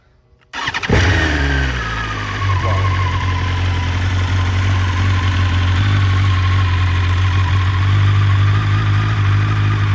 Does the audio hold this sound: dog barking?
no